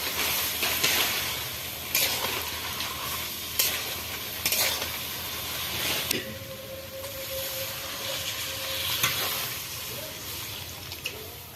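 Spiced chickpeas with red chili and coriander powder sautéed in a pan with water, a spatula scraping and stirring in repeated strokes over a steady sizzle, close and clear with no talking.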